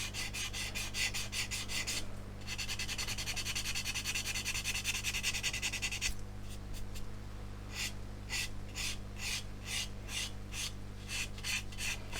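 Close, rhythmic rasping strokes of abrasive sanding a super glue (CA) and talc filled seam, first a fast continuous stretch, then slower separate back-and-forth passes, over a low hum.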